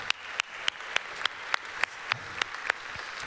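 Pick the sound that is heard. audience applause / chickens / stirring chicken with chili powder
audience applause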